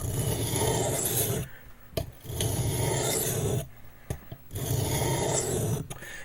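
A knife blade rasps back and forth across a coarse QSP sharpening stone in three close, steady bursts of stroking, each separated by a short pause.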